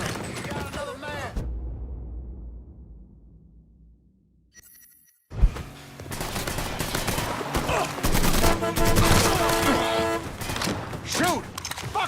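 Video game gunfire in Mafia 3 combat: an opening burst fades into near silence, then sharp shots erupt into dense, rapid volleys of automatic fire, loud and close, with a voice talking over parts of it.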